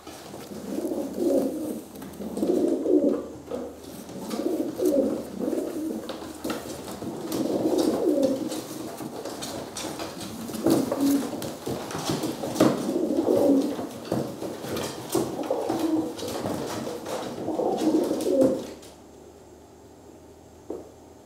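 Racing pigeons coo repeatedly in soft, throaty phrases, several birds overlapping close by, before the cooing stops near the end.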